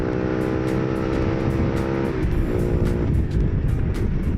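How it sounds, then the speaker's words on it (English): A Honda CBR 125R motorcycle runs at full throttle, its small engine giving a loud, steady buzzing drone with a slight dip and recovery partway through, heard close with wind noise and no talking. "Okay, I'm full throttle here."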